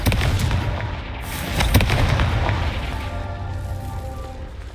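A Confringo blasting spell goes off in Hogwarts Legacy, a loud explosive burst with crackling debris and a second sharp blast, then a fading rumbling tail.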